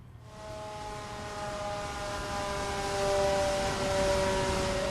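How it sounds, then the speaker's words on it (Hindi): A loud, sustained dam warning siren at Kota Barrage, India, wails steadily with a rising, droning tone as floodgates open, filling the air with no voices. "जब मैं लाइव हूं तो अभी सायरन बजा है"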